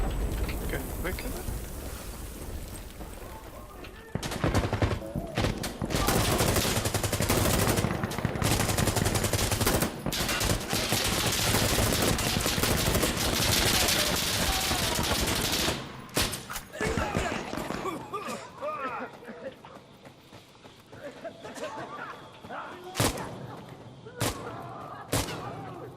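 Gunfire in the video game Insurgency Sandstorm during a full match on the Ministry map: loud bursts of automatic and single shots blend into a dense barrage, then thin to scattered sharp reports, with voices talking over parts of it.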